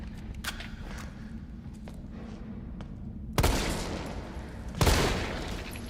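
Gunfire in the video game Resident Evil 3 Remake: two loud, sharp shots well apart against a steady low background hum, each followed by a brief decay.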